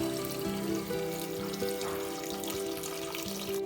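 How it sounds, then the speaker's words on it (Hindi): Water poured into a pot of browned mutton cooking with okra, giving a steady close sizzle and bubbling hiss that runs throughout with no talk. "अब इसमें हम पानी शामिल करेंगे"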